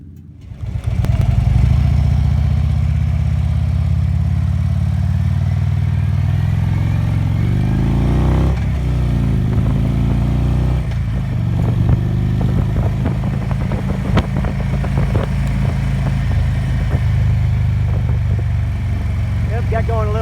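A motorcycle fitted with a Darkside car tire rides through Spearfish Canyon, South Dakota. Its engine roars loud and continuous with wind noise, the pitch rising and falling as it accelerates and shifts.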